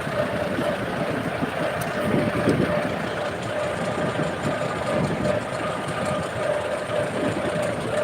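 A farm tractor's engine idles steadily at close range, its low rumbling drone unbroken and even throughout with no voices.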